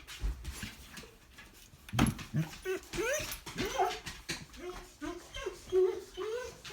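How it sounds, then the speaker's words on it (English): A dog whimpering to be let out, giving a string of high, rising whines and yips with soft panting, close and fairly quiet, with a brief thump early on. "I'm gonna let the dog out."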